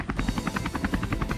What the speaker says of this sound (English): Who's flying the helicopter?